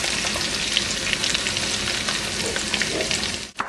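Fresh garlic frying in a couple of teaspoons of oil with onion for lobster fra diavolo, a dense, steady close sizzle that continues without a break until a short stop near the end.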